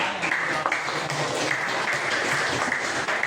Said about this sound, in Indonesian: Oke, tepuk tangan buat kelompok yang sudah.